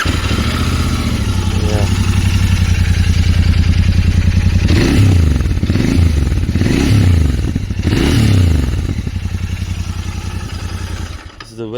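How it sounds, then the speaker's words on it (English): Royal Enfield Continental GT 650 with a parallel twin engine idles with a steady low thrum, rising in a few throttle blips before settling, close by, with someone speaking briefly. "There's a very sweet sound of the parallel twin."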